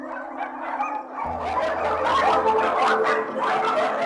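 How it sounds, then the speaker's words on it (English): A loud chaotic din of scores of dogs barking and yelping at once inside a barn at a puppy dealer's complex, echoing, with a low hum underneath. "Inside the first barn, scores of dogs."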